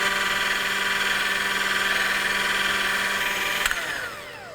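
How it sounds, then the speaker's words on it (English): Electric mixer whipping cream in a bowl, a steady close motor whine that holds for several seconds and then winds down as it is switched off. "while we are whipping the cream"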